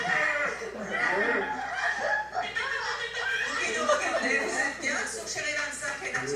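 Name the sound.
people imitating horse, pig and chicken sounds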